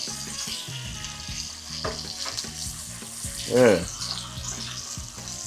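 Bacon frying in a pan, a steady crackling sizzle running under background music, with a short voice chiming in briefly near the middle.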